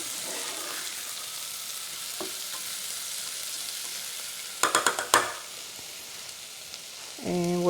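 Rice grains frying in butter make a soft, steady sizzle up close, broken by a short burst of spoon scrapes and clinks against the pan midway and a low clunk near the end.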